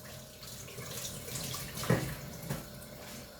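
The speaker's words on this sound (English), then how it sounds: "The thyme is being washed" Fresh thyme is rinsed under a running tap for soup with pigeon peas, a short close spray of water with a couple of louder splashes and knocks in the middle.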